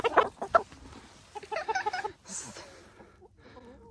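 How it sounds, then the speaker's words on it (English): Hens cluck and squawk inside a winter chicken coop, several short close calls in bursts with a higher squawk near the middle, between quieter moments of rustling. "The chickens are very happy."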